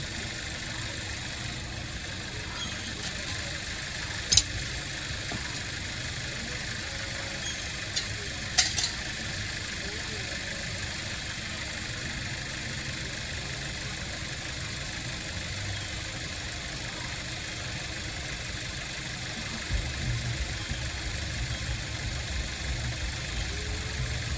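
A steady, low Chevrolet Camaro SS engine hum idles on after warm-up without a break, with a few faint clicks and knocks near the microphone.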